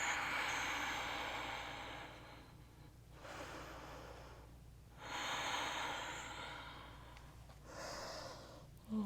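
Slow, deep breaths rise and fall during a gentle yoga flow. Each long inhale or exhale is airy and soft, separated by brief pauses, with faint room hiss underneath.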